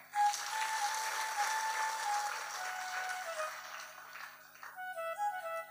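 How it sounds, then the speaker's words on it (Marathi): Audience at a Shiv Mahapuran religious discourse gathering applauds in a sustained wash of clapping from a crowd, steady and somewhat distant, with a faint tone underneath and tapering near the end. "जोरदार टाळी वाजवा"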